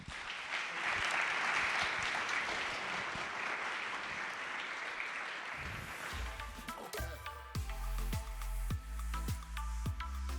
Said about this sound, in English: Let's give a warm set of applause for this panel